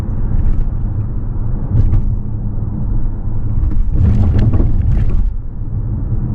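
2025 Toyota RAV4 SE Plug-in Hybrid rolling over a bumpy wooden bridge, a steady cabin rumble broken by irregular thuds and rattles from the planks, loudest in a cluster near the end.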